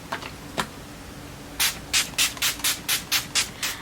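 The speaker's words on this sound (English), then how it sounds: "Then we're gonna just end up the look with a setting spray" A rapid series of about nine short hissing spray bursts from a large e.l.f. Makeup Mist and Set setting spray, close and evenly paced, following a couple of faint earlier puffs.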